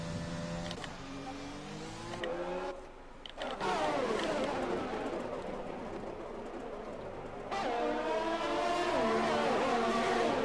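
Formula 1 race cars whine through the Australian Grand Prix circuit in a racing video game, high engine notes sweeping up and down in pitch as gears shift, with a short dip in sound midway.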